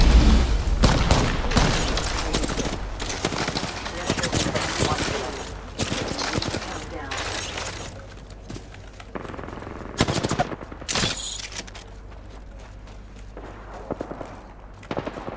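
Rapid bursts of automatic gunfire and scattered single shots from the Apex Legends battle royale game crackle close and loud, fading into sparser shots and footsteps, with voices heard in between.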